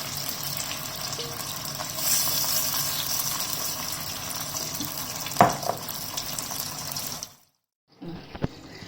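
Chicken pieces shallow frying in oil for a pressure-cooker chicken biryani, a loud, steady close sizzle with a few pops, cutting out abruptly near the end.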